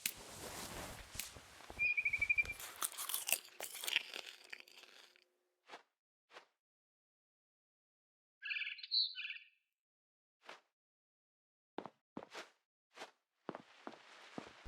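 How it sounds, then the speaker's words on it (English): A barn swallow chirping outside a window in the game What Remains of Edith Finch, a few short bright chirps among crunchy footstep-like noises and quiet gaps, the calls brief and moderately close. "Then I heard chirping outside my window. It was a barn swallow going back to her nest."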